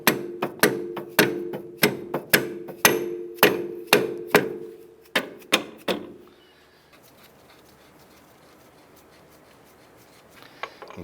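About a dozen crisp metallic taps ring out in a steady rhythm as a clevis bolt is knocked into line on a 2002-2007 Jeep Liberty front axle, then quiet workshop shuffling follows with no talk.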